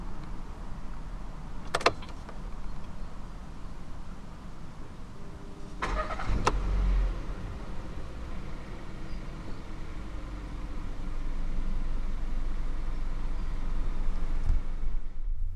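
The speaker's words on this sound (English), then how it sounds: "To start the car, put your foot on the clutch and simply twist the key." Clicks and a brief mechanical churn as the 1.2 TSI engine of a 2014 SEAT Leon cranks by key and catches, then settles into a steady low idle inside the car.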